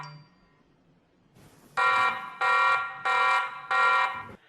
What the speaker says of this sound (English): Now when it detects motion, it lets out a siren to shoo away any intruders.